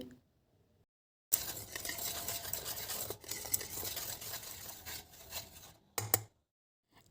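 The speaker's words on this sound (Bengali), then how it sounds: "এবার এই সমস্ত উপকরণকে খুব ভালো করে মিশিয়ে নিতে হবে" Flour, rice flour and salt being stirred together in a bowl with a spoon, brisk scraping and rubbing strokes in several bursts separated by short pauses, close and fairly quiet, with no talking.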